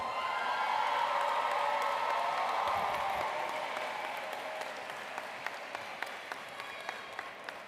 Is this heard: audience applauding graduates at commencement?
yes